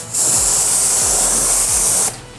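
Pressurized water spraying to rinse a car tire during a wheel cleaning, a loud steady hissing jet that starts abruptly, runs for about two seconds, then stops sharply, with no talk.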